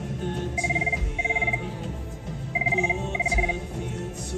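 A desk telephone in an office rings in two double bursts of electronic trills, clear and fairly close over a steady room hum.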